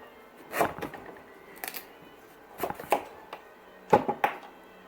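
A knife cuts through a fresh horseradish root on a board, making four or five sharp, crunchy chops in uneven clusters, each ending in a knock against the board; close and fairly quiet, with no talking.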